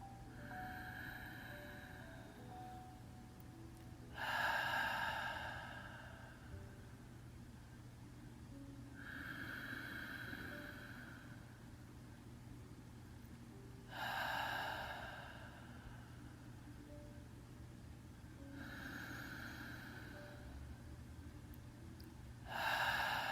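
Deep breaths during a yin yoga practice, several slow exhales with a breathy sigh-like rush recurring roughly every five seconds, close and fairly quiet over a steady low hum.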